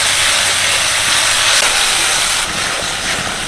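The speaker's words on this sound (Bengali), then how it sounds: "এবারে মশলাটাকে খুব ভালোভাবে কষিয়ে নেব।" Masala with turmeric and Kashmiri chilli powder fries in a pan, giving a loud, steady broadband sizzle that hisses continuously and close up, with no talking.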